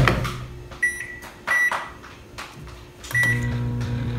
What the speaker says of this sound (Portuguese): Agora eu vou levar ao micro-ondas, eu acho.